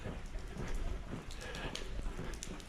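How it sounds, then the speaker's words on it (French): Steady continuous rain falls on a muddy mountain trail during an ultra trail race, a dense crackling patter that stays constant and fairly loud throughout with no voices. "il pleut en continu"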